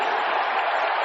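A basketball arena crowd roars during a Pistons 8-0 run against the Celtics, a dense, sustained wash of cheering that stays loud and even throughout.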